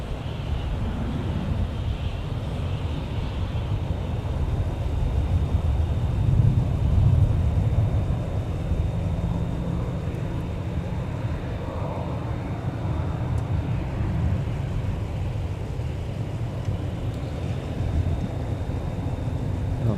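A jet departs from the runway at MSP airport, heard as a steady, distant low rumble of engine roar with some wind noise, swelling slightly midway before holding level, with no voices.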